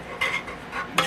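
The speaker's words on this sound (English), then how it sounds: "Stir it." Food stirred in a pot with a utensil inside a Presto electric kettle, two or three brief scraping swishes close by, quiet and without voices.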